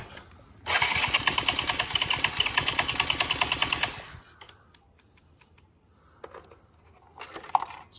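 Polaris Outlaw 50 ATV engine cranking after starting fluid, a fast steady whirring starter run for about three seconds that fails to catch, followed by faint clicks and handling noises.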